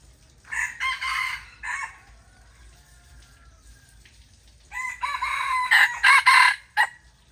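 A rooster crows twice, loud and close, with a short pause between calls and a low steady hum underneath.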